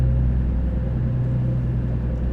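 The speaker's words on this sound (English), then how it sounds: "Man, this Jake sounds mean." A heavy truck's Jake brake in an SCS truck simulator drones as a steady, loud, low rumbling engine note, unbroken throughout the brief stretch.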